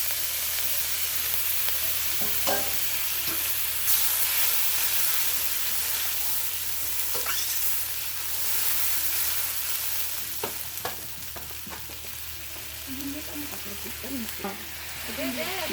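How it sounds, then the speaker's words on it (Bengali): Chicken kosha sizzling loudly in a pan with a splash of water added, a steady steamy hiss with occasional scrapes of stirring and a voice talking faintly underneath. "এখন একটু জল দিয়ে কষিয়ে নিব"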